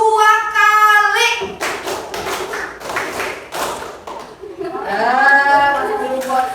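A group of pupils in a classroom claps together in a set counted pattern, a run of sharp, fairly loud hand claps set between stretches of voices.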